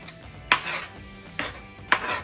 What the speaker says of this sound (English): we all know how to chop onions